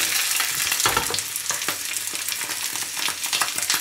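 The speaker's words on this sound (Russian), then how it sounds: "Обжариваем колбаски с одной стороны, переворачиваем на другую и накрываем крышечкой." Chinese sausages fry in coconut oil in a pan, making a steady, close crackling sizzle with small pops and stirring noise throughout, and no one talking.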